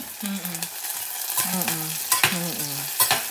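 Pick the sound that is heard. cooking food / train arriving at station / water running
cooking food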